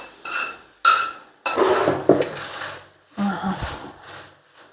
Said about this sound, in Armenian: Այդ այսպես էլ սրբենք թավան։